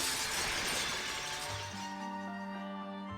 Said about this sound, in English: With a rumbling sound, the crystal shattered